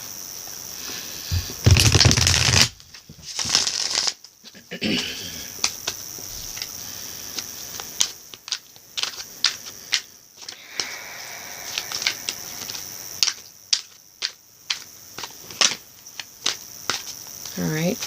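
A deck of tarot cards is shuffled and cut, giving a burst of riffling followed by many soft, quick card snaps and taps in irregular clusters. The sounds are close and fairly quiet, with a faint high hiss behind them.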